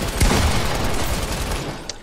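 Rapid, dense light machine gun fire from a Fortnite match, a sustained burst of crackling shots running nearly two seconds at steady loudness, with a sharper report near the start.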